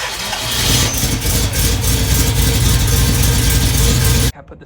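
A Ford Bronco engine fitted with Sniper EFI runs loud and close, its rough mid-range idle rising slightly as it revs before cutting off abruptly near the end.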